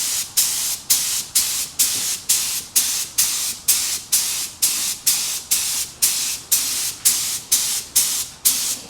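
A spray gun lays a light dusting coat of 2K paint onto a wheel in rapid, evenly spaced hissing bursts, each about half a second long, repeating steadily and loud at close range with no talking.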